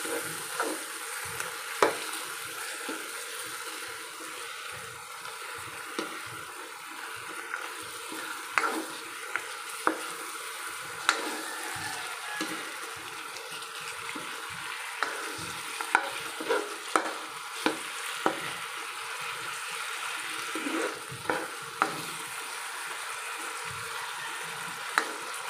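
Chicken sautés in a pan with pepper, sizzling steadily and close with a soft, even frying hiss, broken by repeated light clacks and scrapes of a stirring utensil against the pan, and no talk.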